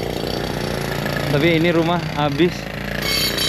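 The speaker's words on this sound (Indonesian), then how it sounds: "Mohon maaf kalau suaranya kencang karena ada ini mereka yang lagi ngebor" Drilling at a fire-damaged house site in Los Angeles makes a constant loud mechanical grinding roar nearby, running under a person talking briefly.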